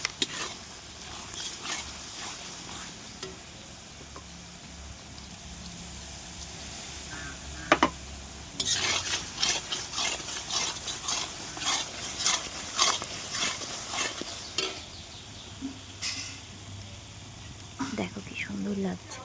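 Meat and potatoes fry in spiced oil over a wood fire while a utensil stirs and scrapes the pan in irregular bursts, a steady close sizzle underneath, with a person talking over it.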